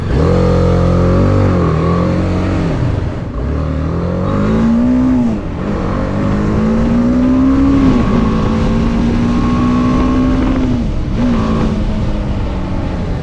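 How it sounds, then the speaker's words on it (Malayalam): A BMW motorbike engine runs close by, its tone rising and falling through repeated revs and a sustained higher drone across the whole stretch. "BMW ബൈക്ക് അല്ലേ."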